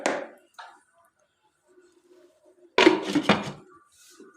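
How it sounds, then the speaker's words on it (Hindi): Cauliflower pieces dropped into a cooking pot for aloo gobhi, a couple of short clatters at first, then a quiet pause before a louder burst of metal clanking as the lid is set on. "ये तमाम गोभी इसमें डाल दिए और तकरीबन 5 मिनट के लिए ढक के रख दीजिए।"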